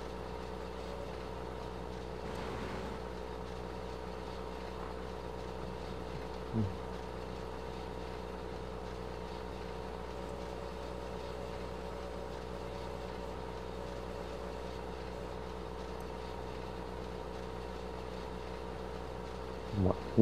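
A tractor engine labouring in the Farming Simulator 15 game gives a steady, low droning hum that holds for the whole stretch at a moderate, unchanging level.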